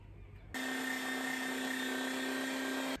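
An electric meat grinder working wild game meat through a coarse grind while making bacon, running as one steady, loud, close mechanical whine with a sharp start and stop and no voices.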